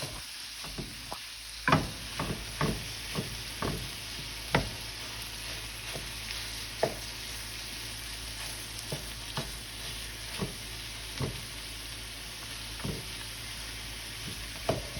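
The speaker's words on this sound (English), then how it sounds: "you just want to break the sausage up" Sausage meat sizzles in a pan with a low, constant hiss while a utensil breaks it up, making soft, irregular scraping taps roughly every half second to second throughout.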